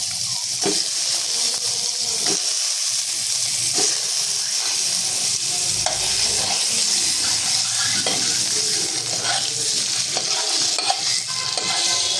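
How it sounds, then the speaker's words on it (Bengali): Eggs fry in hot oil seasoned with turmeric and salt in a home kitchen, giving a loud, steady sizzle and hiss with intermittent stirring scrapes throughout. "ডিম ভাজার জন্য তেলে আমি হলুদ লবণ দিয়ে দিছি। এখন এক এক করে ডিমগুলো দিয়ে দিবি।"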